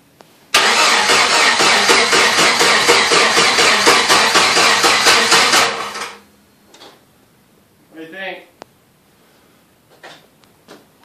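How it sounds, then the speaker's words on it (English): A Jeep engine cranks with a fast, loud, rhythmic starter whir for about five seconds, then cuts off; a faint pop and scattered small knocks follow in the quiet. "Oh, there's a little backfire."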